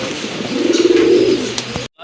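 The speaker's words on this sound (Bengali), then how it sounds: "এখানে কিন্তু দুইটা কবুতর রয়েছে, একটা হচ্ছে আপনার সীসা অ্যান্ডালুজিয়ানের মাদি কবুতর" A female Andalusian pigeon in a fancy-pigeon sale coos in a low, steady murmur for over a second, close by, with faint voices in the background before a brief silence.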